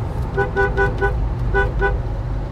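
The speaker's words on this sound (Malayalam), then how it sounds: "നല്ല ഹോണാണ്. എനിക്ക് ഹോൺ നല്ല ഇഷ്ടപ്പെട്ടു." Horn of a 2020 Mahindra Thar diesel, several short tooting blasts in quick succession followed by two more, loud and close over a low engine hum inside the cabin.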